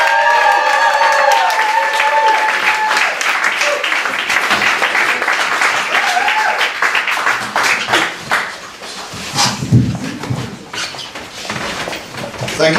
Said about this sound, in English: start clapping, start cheering